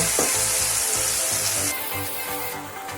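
Mustard seed paste hits a hot pan for fish curry, giving a loud, steady, close frying sizzle with faint stirring and no voices.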